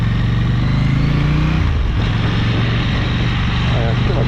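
A KTM motorcycle engine drones loudly and continuously while riding, its pitch dropping partway through as the revs change, with faint talk underneath.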